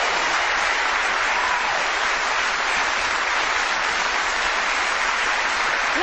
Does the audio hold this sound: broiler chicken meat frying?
no